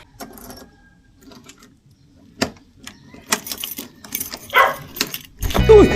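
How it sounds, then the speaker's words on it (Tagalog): Keys jangle and clink in bursts as someone tries a set of three keys in a garage door lock at an apartment, with metallic rattles growing louder toward the end and a brief vocal sound. "Ito ang 3 susi ha."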